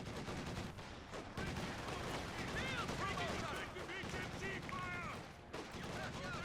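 A DShK Dushka heavy machine gun in Company of Heroes 2 fires sustained, dense automatic bursts amid heavy battlefield noise, with voices talking over the gunfire.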